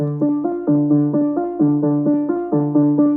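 A bright synth repeats a short pulsing figure, rhythmic stabs cycling steadily and close, with no voices.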